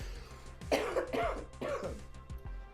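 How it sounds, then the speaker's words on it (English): Several sharp coughs and throat-clearing bursts, close up, spaced about half a second apart, with no talking. "There goes my cough."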